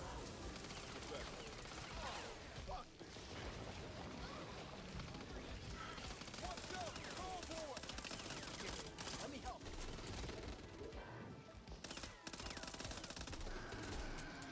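Gunfire from the video game Back 4 Blood rattles almost without pause in rapid automatic bursts and occasional booms, with voices talking over it throughout.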